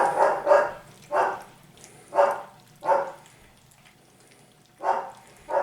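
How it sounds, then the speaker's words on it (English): A single dog barks in short, evenly spaced bursts, six or so sharp woofs close by with quiet gaps between them, near a litter of three-week-old puppies. "Now Bailey is barking because she wants to get into the action"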